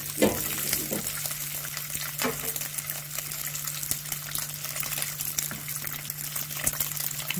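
Lamb tail fat melts in a pan, sizzling and bubbling steadily with wet, liquid crackles and occasional stirring, over a faint low hum.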